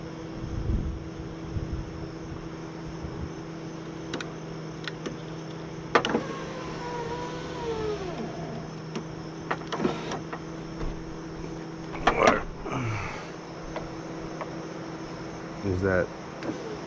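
A Honda Civic power window motor drives the glass down and up in several short whirring runs with clicks between them, close and moderately loud over a steady hum, with a person talking in between.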